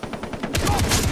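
Rapid automatic gunfire in the video game Far Cry 3, a short, loud, evenly spaced burst of shots that grows heavier partway through.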